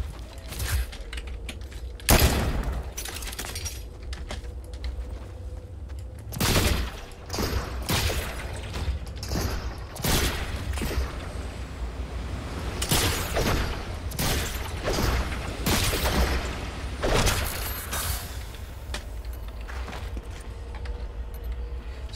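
Repeated bursts of gunfire from a weapon in Fortnite No Build, loud and close, arriving in scattered volleys and single cracks across a busy battle soundscape.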